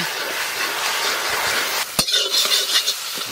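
An egg poured into a hot pan for egg fry at an outdoor cooking spot sizzles steadily in a broad hiss, then a sharp knock of utensil on pan and brief clatter follow, close and without speech.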